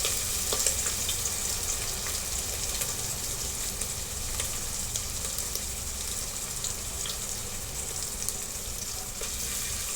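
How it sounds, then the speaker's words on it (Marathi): Mutton fat frying in hot oil for a Kolhapuri-style mutton rassa, a dense, even crackling sizzle that runs unbroken and fairly loud, close by, with no voices. "मी आता व्यवस्थित ही भाजून घेणार आहे तेलामध्ये"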